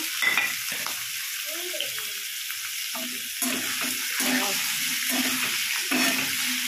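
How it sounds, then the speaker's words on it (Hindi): Potatoes fry steadily in a pan for a potato curry, a continuous close sizzle with occasional stirring scrapes and faint clinks, no voices. "देख रहे हैं कि मेरे आलू थोड़ा सा फ्राई हो रहा है"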